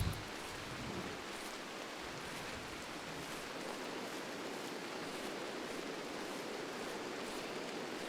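Steady rain in the RimWorld colony game, a constant even hiss of falling drops at moderate level with no speech.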